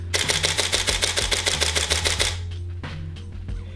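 A rapid burst of DSLR shutter clicks at 7 frames per second, fast and evenly spaced for a couple of seconds, close up, then a quieter click or two.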